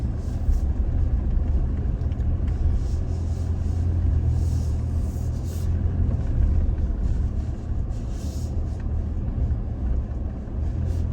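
A Toyota Tacoma truck driving off-road through swampy terrain in two-wheel drive, a steady low engine rumble with continuous rough tire and body noise, close and unbroken.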